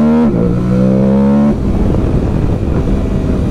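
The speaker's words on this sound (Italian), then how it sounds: "ma soprattutto sto rumore di aspirazione" New motorcycle with traction control switched off, engine revving hard under acceleration with a loud intake roar, the pitch climbing and then dropping at a gearshift before pulling again, close and dominant with no talk.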